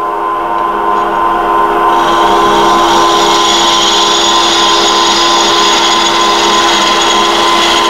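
A detail gouge cuts wood spinning on a lathe, giving a loud, steady whirring drone with a sharp hiss that rises as the cut begins and holds evenly, with no talking.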